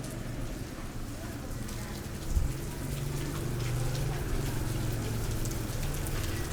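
Heavy rain falls steadily outdoors during a Buddhist novice ordination and alms-giving ceremony in Xaisomboun, a dense continuous wash with a brief knock partway through and faint voices underneath.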